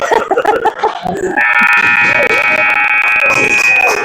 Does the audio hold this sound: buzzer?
yes